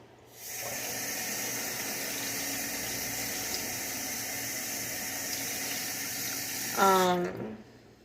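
Kitchen sink tap running steadily while dishes are washed, a constant close hiss of flowing water that ends with a rising squeak as the faucet is turned off.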